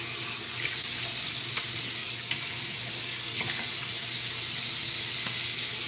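A tap runs cold water into a bathroom sink during a shave, making a steady, close splashing rush that continues without a break.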